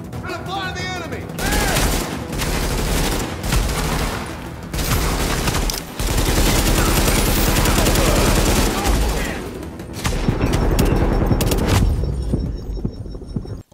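Video game gunfire in Battlefield: dense, loud bursts of blind-fired automatic shots and booms come in rapid volleys with short gaps, a few voices speak among the shooting, and it ends with a quieter tail.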